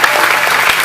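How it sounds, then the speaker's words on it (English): An audience at an event claps, giving a brief, dense burst of close, loud applause. "Go ahead, clap again."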